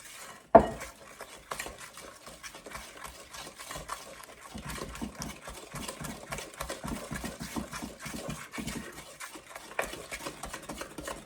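Spatula scraping a spoon clean over plum bread batter, a sharp clack followed by a run of soft, rhythmic scraping and stirring against a bowl, close and fairly quiet.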